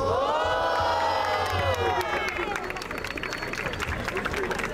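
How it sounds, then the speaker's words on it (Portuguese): An audience at a rap battle semifinal roars with cheering, shouting and clapping, a loud continuous crowd wall with raised voices yelling across it. "Palmas, apenas ouvi palmas."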